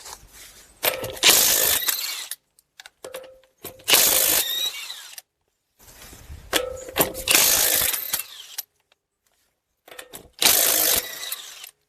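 Ratchet loosening 22 mm wheel nuts on a Buick rear wheel: close, loud bursts of rapid ratcheting clicks in four or five spurts, separated by short silent pauses, with no talk.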